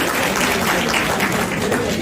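Audience applause during a talk session, a dense, even wash of many hands clapping that stays loud and steady from start to finish.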